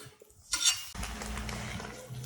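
A metal spatula clinks on a flattop griddle as grilled turkey and ham sandwiches are flipped, followed by a steady close sizzle of cooking on the hot surface.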